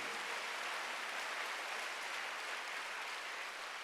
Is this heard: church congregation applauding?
yes